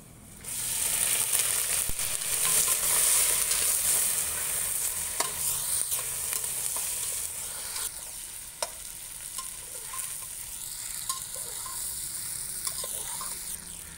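Chicken pieces fry with well-browned onions in oil in a pan, a steady close sizzle and hiss with occasional stirring scrapes throughout, no voices.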